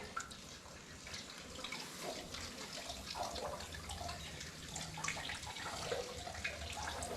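Water running steadily into a container for livestock, a soft continuous splashing and trickle heard close but at low level, with no voices.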